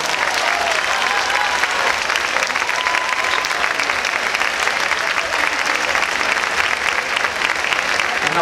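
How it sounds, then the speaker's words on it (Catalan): A crowd at a neighbourhood festival prize-giving for decorated streets applauds the contest winners, loud dense clapping sustained throughout with some cheering mixed in. "Un fort aplaudiment per ells."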